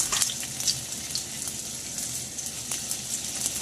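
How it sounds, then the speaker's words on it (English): Sausage frying in a pan for breakfast gives a steady, close sizzle with scattered crackles and pops, continuous and moderately loud with no talking. "Right here we have the sausage going."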